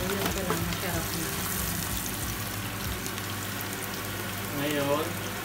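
Garlic and onion sautéing in a pan, a continuous dense frying sizzle with occasional stirring, and someone talking over it at times.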